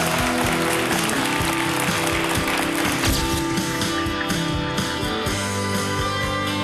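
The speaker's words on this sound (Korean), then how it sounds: "따뜻한 위로의 박수 부탁드리겠습니다" Dense, loud applause from a TV quiz show studio audience, continuous clapping filling the whole stretch without pause.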